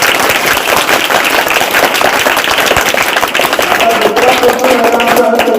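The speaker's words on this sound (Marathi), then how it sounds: "सर्वांनी अगदी जोरदार टाळ्या वाजवून त्यांना आपण त्यांच्याप्रती कृतज्ञता व्यक्त" Loud, sustained applause from an audience at a school tree-planting and gratitude ceremony, dense clapping filling the whole stretch at close range.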